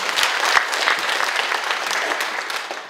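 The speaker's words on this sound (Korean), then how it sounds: "큰 박수 부탁드립니다" Crowd applause at a National Assembly forum on a peace park project, a loud, continuous patter of many hands clapping together that holds steady and eases slightly toward the end.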